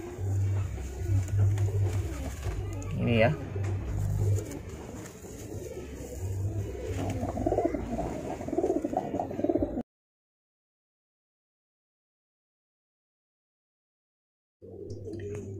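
Caged pigeons or doves coo with low, repeated throaty calls through the first ten seconds, close and steady, under brief talk. A gap of silence follows before the cooing resumes near the end.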